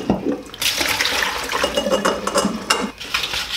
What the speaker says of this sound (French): une fois que vous les avez bien rincés pour l'amidon, vous videz l'eau